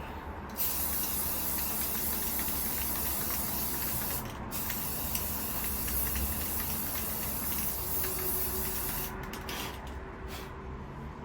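Spray gun laying a flat base coat on a rifle, a steady loud hiss with brief pauses where the trigger is released, heard close and alone.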